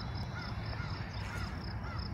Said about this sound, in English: the crow cawing off in the distance.